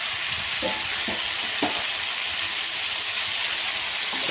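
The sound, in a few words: vegetables and drumsticks frying and sizzling in pan for sambar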